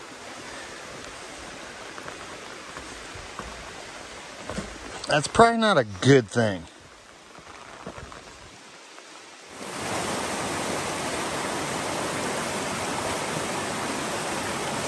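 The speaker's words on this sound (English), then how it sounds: "It's starting to rain." Steady broadband hiss of rain sets in partway through on the Appalachian Trail and continues evenly, after a brief spoken remark and a quiet lull.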